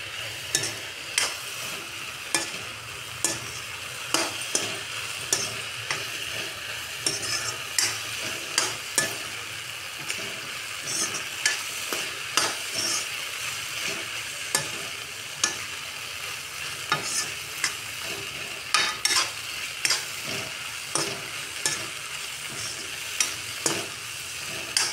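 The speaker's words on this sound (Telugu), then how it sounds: "ఇప్పుడు దీంట్లో ఈ మంచూరియా బాల్స్ వేసుకోవాలి. వెజ్ ఐస్ ఫ్లేమ్ మీదనే దీన్ని ఇలా రోస్ట్ చేసుకోవాలి." Veg manchurian balls tossed and roasted in a pan over a high flame, a continuous bright sizzle punctuated by regular clattering strokes of the spatula, close and fairly loud, with no talking.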